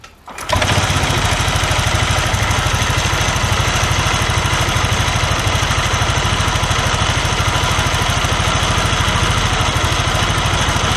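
A small automatic scooter engine starts and runs at a high, steady idle, loud and close, with a constant buzzing putter and no voices.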